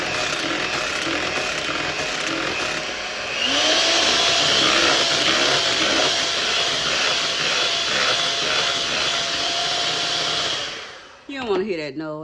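An electric hand mixer whirs steadily as it creams sugar for an egg-free tiramisu, the motor pitch rising midway and holding loud and close before cutting off near the end.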